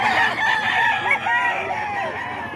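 Several roosters belonging to Boss Eric crow over one another at a rooster market in Bocaue, loud and overlapping, with steady clucking and crowd noise behind.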